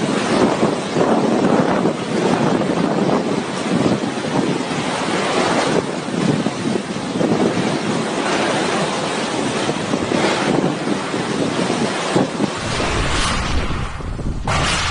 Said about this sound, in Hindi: हवाएं इतनी तेज है कि वो पूरी तरह से हिला दे रही है